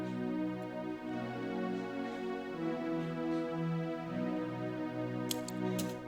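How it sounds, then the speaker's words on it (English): Sustained synth pad strings in an afrobeats beat hold a soft, steady chord texture with slowly shifting notes, fairly quiet, with a few bright percussive ticks near the end. "This is actually a pad, but we can call it a strings also."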